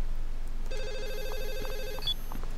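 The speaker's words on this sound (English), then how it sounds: "Okay, I guess we're gonna answer that phone call." A telephone rings inside the horror video game Michigan: Report from Hell, a single electronic warbling ring that plays for just over a second against a quiet background hum.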